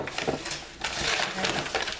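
Crinkly plastic bag rustling in bursts over two seconds, close and fairly loud, with no voices.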